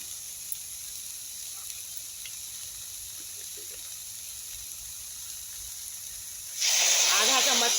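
Shredded cabbage and chili frying in a pan for street-style veg momos: a faint background hiss for most of the stretch, then a loud, bright sizzle bursts up near the end and keeps going.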